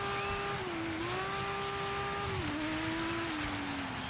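Car sliding across ice in the racing video game DIRT 5, a steady engine tone with a long tire-squeal whine that dips and shifts as the car skids, loud and alone.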